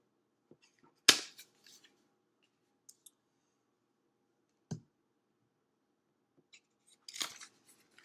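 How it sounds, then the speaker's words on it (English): Cards are lifted out of a periodic table arrangement on a table, producing a few sharp, isolated clicks and light rustles separated by near-silence, close and fairly quiet. "now what I'm going to do is remove two of the cards"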